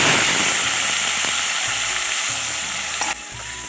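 Onion, tomato and capsicum fry in oil for a mutton kosha, giving a steady, close sizzle with soft stirring scrapes throughout and a brief clatter near the end.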